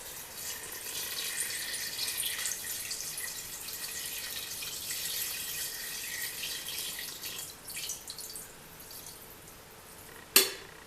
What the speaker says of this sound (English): the last thing I'm going to do is add some water. I want to just cover that chicken.